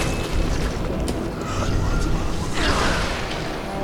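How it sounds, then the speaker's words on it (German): Enemies firing guns in Bloodborne: dense, heavy booming blasts and rumbling bursts fill the scene continuously, with a swelling surge near the end. "Okay, die schießen einfach nur."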